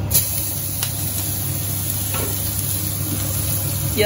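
Onions frying in a pan with dried chilies, a steady soft sizzle and hiss that holds evenly throughout, with a few faint clinks of stirring.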